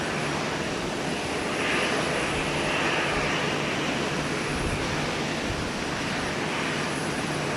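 A jet airliner rolls for takeoff on runway 12 left at Minneapolis–St. Paul Airport, a loud, steady broadband engine roar that swells slightly midway and holds close and continuous throughout.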